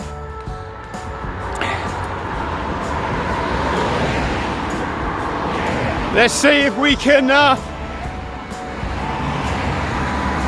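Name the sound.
road traffic passing a runner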